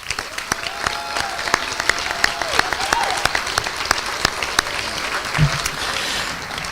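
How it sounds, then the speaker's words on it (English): Audience applause at a high school class night awards event, a dense steady patter of clapping hands from a crowd, sustained throughout with a faint murmur beneath. "A round of applause."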